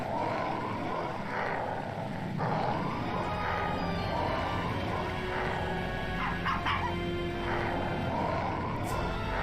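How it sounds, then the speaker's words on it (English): A cartoon dog barks in a Wallace & Gromit video game, set in The Last Resort episode. Short yips and woofs rise over a steady bed of game music and ambience, fairly loud throughout. "Freaking dogs!"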